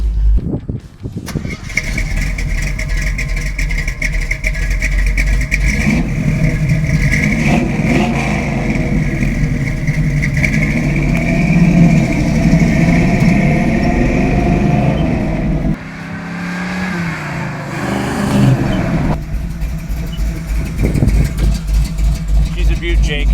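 A 1972 Chevrolet Nova engine cranks, fires and settles into a loud, steady rumble with repeated revving swells, close by and continuous, with people talking over it.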